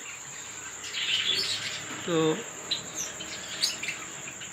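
Pearl cockatiels, including a rare fawn pearl, chirping in a breeding colony: scattered short chirps and a few clearer whistled calls over a faint insect-like hiss, with a brief spoken word among them.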